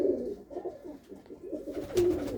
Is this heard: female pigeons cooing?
yes